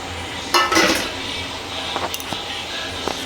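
A metal dish clinks and clatters as it is pulled out for kneading atta dough for roti at home, with a sharp rattle near the start and a few lighter knocks afterward, close by.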